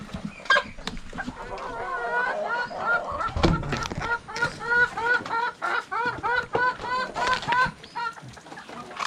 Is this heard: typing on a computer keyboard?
no